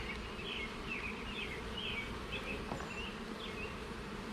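Honeybees buzz steadily around an open hive during an inspection, a continuous close insect drone with no voices.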